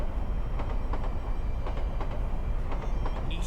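A train braking as a sound effect in a visual novel: a steady, loud rumble with rhythmic clacks and knocks as the carriage shakes, with a brief high squeal at the very end.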